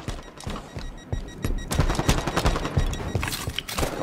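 Rocket launcher fire in a Halo-style shooter, heard amid a dense, loud barrage of rapid gunfire and explosive bursts that intensify partway through, with no speech.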